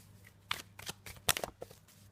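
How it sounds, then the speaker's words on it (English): Quick bursts of tarot cards riffling and snapping together, several short shuffles in a row, close and fairly quiet, with no talking. "Sometimes I get a little bit too enthusiastic shuffling the cards."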